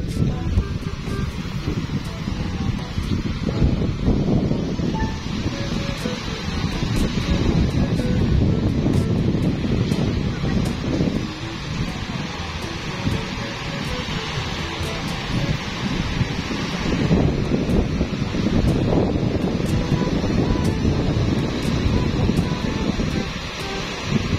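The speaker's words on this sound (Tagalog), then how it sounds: "lakas ng hangin" A strong wind blows steadily across the microphone outdoors and gusts in a continuous roar, with faint background sounds underneath.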